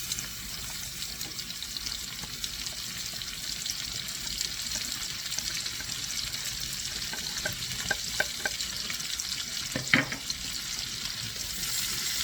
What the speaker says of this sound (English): Now we are going to cook this together until the onions become translucent